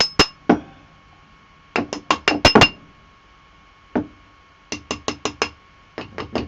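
A hammer taps a metal ring flat on a mandrel in sharp, ringing metallic clinks, falling in quick bursts of four to six strikes separated by short pauses, close and loud.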